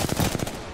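Rapid automatic gunfire in the battle royale game Apex Legends, a quick burst of several close, punchy shots lasting under a second.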